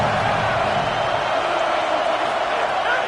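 A stadium crowd in a college football video game cheers and roars in a steady, dense wash of noise throughout, loud and continuous with no break.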